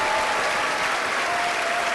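A live panel audience at a convention applauds a guest being welcomed onstage, dense steady clapping and some cheering sustained at full loudness throughout.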